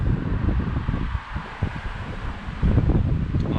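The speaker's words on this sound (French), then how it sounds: "il y a beaucoup de vent comme d'hab" Steady gusty wind buffeting the microphone during a bicycle ride, a continuous low rumble and roar that swells louder toward the end.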